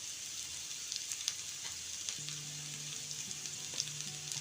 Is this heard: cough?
no